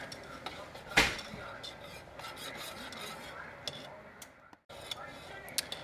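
A spoon stirring milk and sugar in a metal pot for no-bake cookies, with soft repeated scraping and light clinks, one sharper knock near the start, and quiet talking over it.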